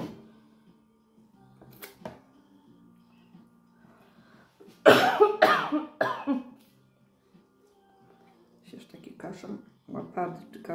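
A person coughs in a short burst of several harsh coughs near the middle, with quieter throat sounds and faint background noise around it.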